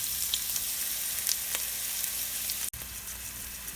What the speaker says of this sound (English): I have 2 tablespoons of oil heating in this pan. Go ahead and add the onions.